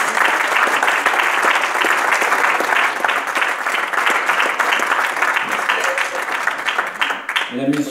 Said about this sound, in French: Merci Roger, je pense qu'il mérite nos applaudissements